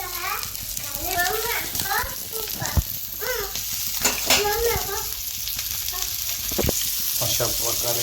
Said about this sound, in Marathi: अशा प्रकारे मित्रांनो आपला बांगडा फ्राय चालू आहे.